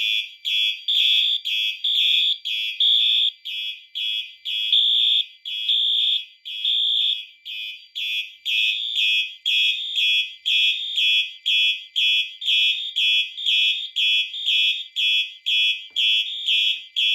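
A Fire Lite MS-5UD fire alarm system sounds continuously in rapid, evenly spaced high-pitched electronic pulses grouped in repeating bursts, loud and unbroken, with no talk.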